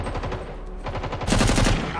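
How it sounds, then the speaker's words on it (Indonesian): Rapid bursts of automatic gunfire in an action horror film about a gang fighting bloodthirsty police, sounding distant at first and then growing louder and denser, with heavy repeated shots in the second half. "mereka mendengar suara tembakan dari kejauhan"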